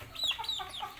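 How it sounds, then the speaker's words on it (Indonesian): A flock of about eight mostly male chickens clucking close by in quick, overlapping calls, bright and busy over a brief moment with no talk. "di depan saya ini ada beberapa ayam, jumlahnya kurang lebih 8 ekor"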